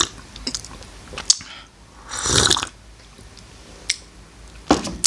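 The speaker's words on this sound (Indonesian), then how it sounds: "kita seruput dulu kopinya, teman-teman ya" Coffee being sipped with a few short slurps and a breathy draw near the middle, close up and fairly quiet, with small clicks and mouth noises around it and no talking.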